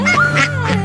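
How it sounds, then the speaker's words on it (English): Duck on a road quacks three times in quick succession, nasal and close, loud and clear with no talk over it. "Quack, quack, quack."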